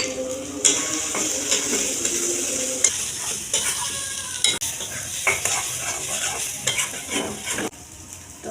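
Spice paste with turmeric and chili is sautéed with coconut milk in a pan for prawn malai curry, with a steady close sizzle and frequent spoon scrapes and stirs throughout.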